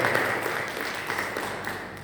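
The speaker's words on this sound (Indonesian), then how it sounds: "Kasih tepuk tangan" Congregation applause at a young adults' church worship service in Surabaya, a dense, steady wash of many hands clapping at fairly close range, sustained throughout without speech over it.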